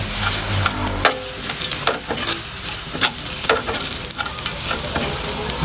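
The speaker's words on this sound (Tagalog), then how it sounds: "Nag-golden brown na nga ito, kaya naman, pwede na natin ilagay dito yung ating pangsahog na dilis." Dried anchovies fry with golden-browned garlic and onion in a pan, with a busy crackling sizzle and occasional sharp clicks and scrapes from stirring. The sound is close and there is no talking.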